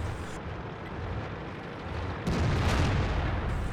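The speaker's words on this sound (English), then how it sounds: "He's running the 90mm Mikar auto loader." A 90mm Mikar autoloader tank gun in World of Tanks, with a heavy booming blast partway through that rises out of constant rumbling battle noise and lingers loudly.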